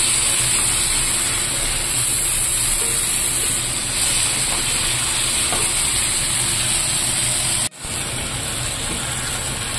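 Water poured into a pan of sizzling cumin paste, ground spices and salt bursts into a loud, steady hiss and bubbling that holds throughout, briefly cutting out near the end before the sizzle resumes.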